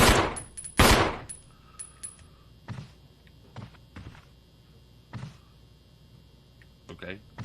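Gunfire in the video game Resident Evil comes as two loud close blasts at the start, followed by sparser softer thuds and game effects, with a voice talking between them.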